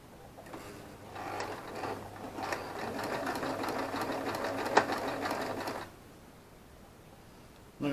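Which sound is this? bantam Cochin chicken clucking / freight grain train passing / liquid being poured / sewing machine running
sewing machine running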